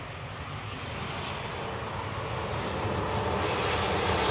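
An easyJet plane at Manchester Airport gives off a faint, distant aircraft engine rumble and hiss that slowly grows louder over a few seconds, heard without any talking.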